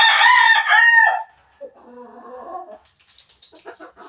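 A pet rooster kept at home crows loudly and close by, a long strained call, followed by softer clucking and short throaty calls.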